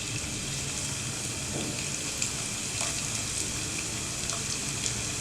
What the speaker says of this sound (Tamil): இப்போ ஒரு பேனில் எண்ணெய் ஊற்றிக்கலாம். இதில் கொஞ்சம் பூண்டு போட்டுக்கலாம்.